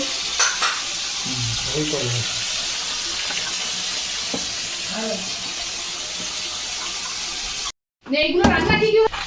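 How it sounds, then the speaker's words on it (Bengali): Fish fries in a pan at home, giving a steady close sizzle with occasional clatter and scraping. Voices briefly break in near the end after a short gap. "এখানে মাছ ভাজা হচ্ছে"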